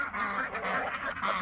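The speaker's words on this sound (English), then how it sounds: "And some of the ducks got out." Ducks loose on a farm quack in a dense, continuous run of nasal calls, close and moderately loud, with no talking.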